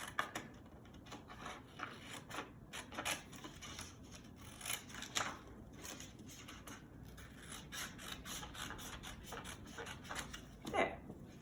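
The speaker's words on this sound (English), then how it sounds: "So I'll cut both halves out." Scissors cut through a long paper tablecloth to split it into two halves, giving a steady run of close, soft snips and rustling paper scrapes with a few louder crunches, no voices.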